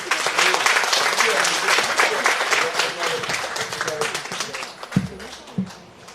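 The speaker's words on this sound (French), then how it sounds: "photo souvenir également sous vos applaudissements" At a ceremony installing elected officials, an audience applauds steadily during a souvenir photo, with dense clapping and voices underneath, tapering off into a few scattered claps and talk at the end.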